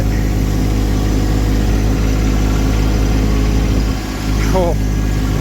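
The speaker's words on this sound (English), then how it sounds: "now let me take my parking brake off and put her in gear." A vehicle engine idles steadily with a deep hum, then briefly dips as it is put in gear to pull a large, heavy log, close and continuous with no talk.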